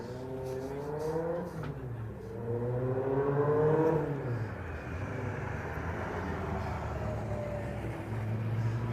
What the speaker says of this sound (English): let's just have a little look as the cars come down into the paddock